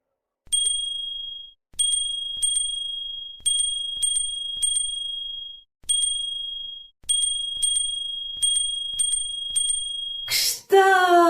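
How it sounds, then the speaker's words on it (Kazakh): A small yellow handbell rings out in a steady series of bright, clear dings, each leaving a short ringing tail, with brief pauses between groups. A voice breaks in right at the end. "Ал енді оларды да қоңыраумен сыңғырлатып шығайық."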